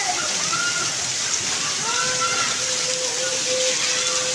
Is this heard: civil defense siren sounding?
no